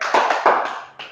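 Children in a classroom clap in short patterned bursts during a rhythmic hand-clapping game, with four or five sharp, close claps spaced unevenly over a second and no voices.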